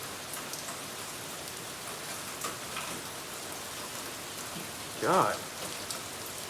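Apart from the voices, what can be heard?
rain falling outside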